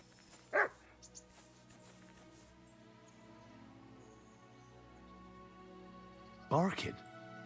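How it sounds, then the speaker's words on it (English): In Kingdom Come Deliverance II, a dog barks twice, faint and some distance off, with short bursts several seconds apart over a quiet ambient hum. "Barking."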